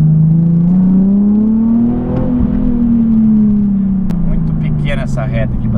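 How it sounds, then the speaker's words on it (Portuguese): Nissan 370Z engine revving from inside the car, a loud steady drone that rises in pitch, peaks, then eases back down, with a brief rustle near the end. "Uma aceleradinha aqui para vocês verem a pegadinha do carro"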